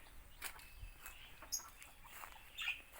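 Faint, scattered chicken clucks and soft chirps at an ornamental bird farm, against a quiet background, with a couple of sharper calls near the end.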